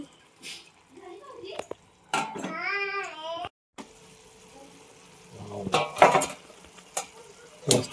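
Umbar todya vegetable cooking in a pan, with intermittent sizzling and stirring scrapes between quiet pauses, a brief whistling tone in the middle, and some background voices.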